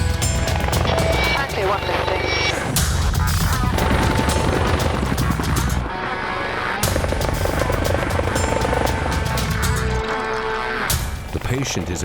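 An air ambulance helicopter's rotor thumps steadily and loudly throughout, with a voice talking over the noise at times.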